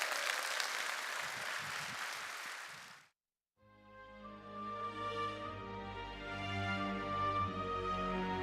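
Audience at a concert applauding a dance troupe, a dense, loud burst of clapping lasting about three seconds that stops abruptly and gives way to music.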